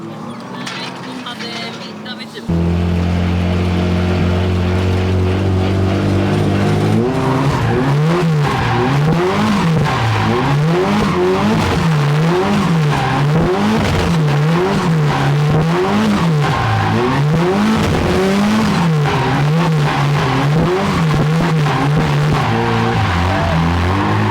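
Saab 30 drifting engine, loud and revving in rising and falling waves on a coned drift course, sustained for about twenty seconds after a quieter opening, with no talk over it.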